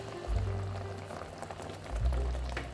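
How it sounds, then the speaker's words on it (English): Grated coconut simmering in a pot of water for cooking, giving a steady low bubbling boil that swells slightly near the end, close and moderately quiet with no talking. "Boil grated coconut for 2 minutes."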